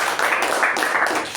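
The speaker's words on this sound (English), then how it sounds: "the president for that deserves a special round of applause" Audience applause at a club meeting, a steady wash of many hands clapping together at moderate volume, sustained without a break through the whole moment.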